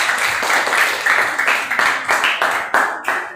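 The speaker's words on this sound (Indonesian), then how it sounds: "Tepuk tangan buat kelompok 1." Students in a classroom clap for a group, a short burst of close, fairly loud applause with distinct individual claps that thin out toward the end.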